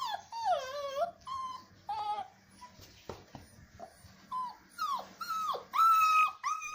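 Several small rescued puppies whimper and yelp in high, wavering cries, close by and repeated in uneven bursts.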